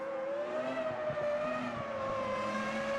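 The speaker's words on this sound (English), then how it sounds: "That sounds like that car is very low on fuel." A Formula One car in a 2002 Brazilian Grand Prix, low on fuel or with a blown engine, running rough and unhealthy: a steady, droning engine note that wavers slightly in pitch, sustained and fairly loud throughout with no voices.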